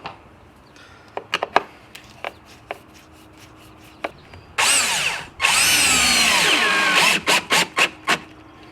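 A power drill drives a three-and-a-half-inch screw into solid wood on a door, with a loud, whining run broken by a brief pause, then a longer steady spin and several short trigger bursts, following scattered knocks and taps.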